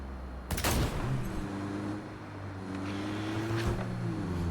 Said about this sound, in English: Don't mind the sound of that gunfire you may have heard a minute ago.